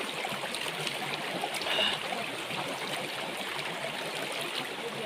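Cold, clear stream flowing through dense forest near a mountain temple, a continuous close babbling rush of water with no voices.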